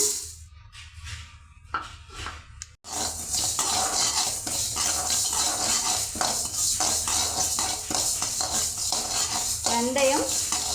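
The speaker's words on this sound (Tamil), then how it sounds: "பாத்திரம் நல்லா சூடாக இருக்கிறதுனால சீக்கிரமே வருபட்டுருங்க" Fenugreek seeds rattle and sizzle as they dry roast in a hot pan, stirred with a utensil scraping the metal, a busy continuous sound close up after a brief quieter start.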